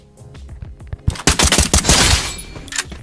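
M4 rifle fire in the game Free Fire, a few scattered shots and then a dense rapid burst of automatic fire, loud and close, trailing off near the end.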